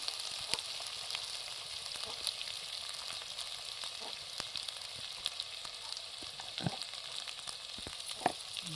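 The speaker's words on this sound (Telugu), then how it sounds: "పసుపు వేసి మళ్ళీ అంటకుండా కలుపుకోవాలి" Turmeric being stirred into oil in a frying pan while preparing a village-style fish curry, giving a steady faint sizzle with occasional soft scraping strokes of the spoon.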